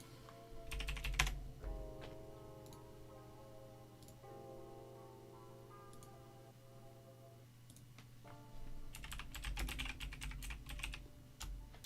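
Typing on a computer keyboard during a live stock market stream, with rapid bursts of key clicks at the start and end and sparser, lighter taps in between, close and clear with no talking.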